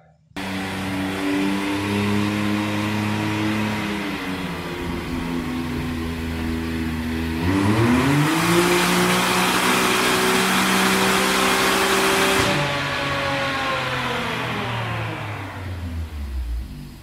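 A Can-Am X3 side-by-side engine revs steadily and loudly on a dyno, climbing in pitch, surging harder midway, then winding down near the end; no voices.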